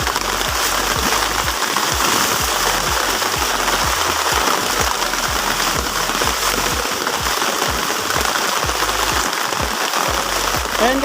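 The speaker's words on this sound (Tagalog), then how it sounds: "Lakas ng ulan guys." Heavy rain pours down loud and constant, a dense roaring wash of drops pattering on a nearby surface throughout.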